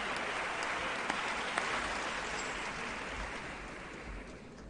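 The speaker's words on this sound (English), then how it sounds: "round of applause for Joy this evening, ladies and gentlemen, please." An audience at a Black Music and Civil Rights Movement concert gives a sustained round of applause, an even wash of clapping that holds steady throughout.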